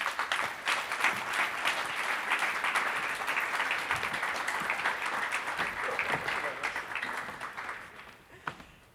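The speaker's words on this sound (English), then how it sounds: "I think you have merited a big round of applause." Applause from a conference panel audience rolls on as steady, moderately loud clapping from a seated crowd, tapering off over the last seconds.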